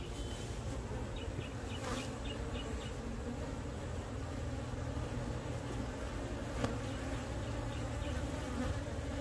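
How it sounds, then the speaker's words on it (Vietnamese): Honeybees buzz steadily around a hive that is ready to swarm, a dense continuous drone close by with faint higher tones over it. "Ong nó tính chia đàn cao lắm,"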